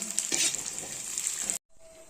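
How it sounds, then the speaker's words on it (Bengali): Golden moong dal frying in oil with bay leaf, whole dried red chillies and panch phoron, stirred in the pan with a loud, close sizzle and scraping that stops abruptly near the end. "অ্যাড করছি সোনা মুগ ডাল আর এটা বেশ ভালো মতো ভেজে নেব।"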